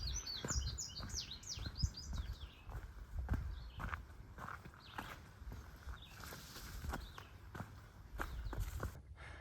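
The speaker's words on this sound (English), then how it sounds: "These birds don't seem to give me any notice." Birds chirping close by outdoors on a meadow walk, a quick run of high tweets near the start and scattered calls later, over soft footsteps and rustling.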